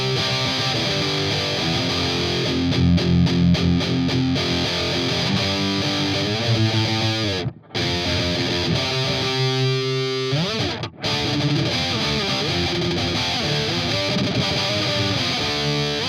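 Heavily distorted electric guitar through an Orange Dual Dark 50 amp plugin with an SD1 pedal, playing chugging 90s punk-style riffs, loud and continuous, with two brief pauses in the middle.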